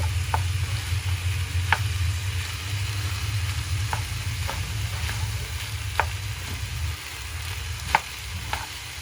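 Garlic and hotdog stir-frying with soy sauce for fried rice, a steady close sizzle with sharp utensil taps against the pan every second or two, no voices.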